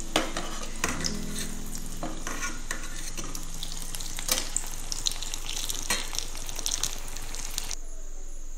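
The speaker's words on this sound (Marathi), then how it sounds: "मी कमी तेलामध्ये वडे फ्राय केल्यात, बघू शकता तुम्ही." Batata vada potato fritters fry in a small amount of oil, with a steady close sizzle and repeated scraping and clinking of a spatula against the pan.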